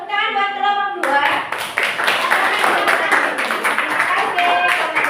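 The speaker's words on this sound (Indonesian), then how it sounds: "Tepuk tangan buat kelompok 2." Classroom applause for a student group, starting with a brief spoken voice and then breaking into loud, dense clapping from many hands that continues steadily to the end.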